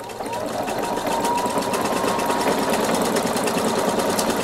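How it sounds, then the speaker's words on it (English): A Viking Sapphire 960Q sewing machine stitches out an embroidery design, its needle running in a steady, fast, even mechanical whir that stays close and constant throughout. "So now I'm ready to stitch out my John Hart Viking."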